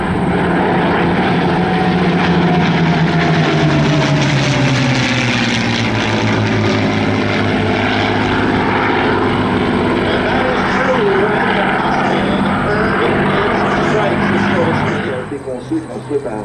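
A North American propeller warplane powered by a Rolls-Royce Merlin engine roars past at an airshow in Gatineau, its loud engine drone rising and then easing as it flies by, with an announcer talking over it.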